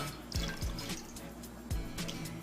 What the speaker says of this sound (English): Now I'm going to pour 1 cup into here.